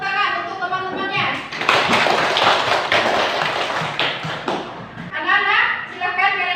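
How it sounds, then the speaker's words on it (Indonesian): Schoolchildren in a classroom clap for their classmates in a loud, dense burst of claps lasting a few seconds, with children's voices before and after. "Tepuk tangan untuk teman-temannya"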